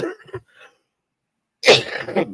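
A single sharp, explosive cough from a person with Covid bursts out loud and close after a brief bit of quiet murmuring and silence.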